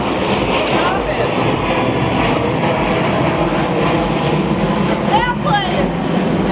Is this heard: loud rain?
no